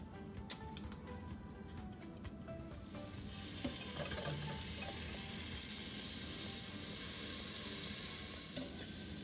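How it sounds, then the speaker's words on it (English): Butter melting in a heated pot at the start of a cheese sauce for mac and cheese: quiet handling sounds, then a steady close sizzle that swells after a few seconds and continues evenly, with no talking. "my pot is heated, so I'm gonna add"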